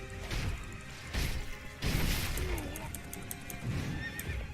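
A horse whinnies loudly amid hoof clatter and heavy crashing impacts in the video game Sekiro: Shadows Die Twice, during the Gyoubu Oniwa boss fight, with a voice talking underneath.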